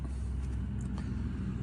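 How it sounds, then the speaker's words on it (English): Steady low rumble of road traffic passing near gas wells where fracking work is under way, continuous engine drone and tire noise with no talking. "excuse all the traffic"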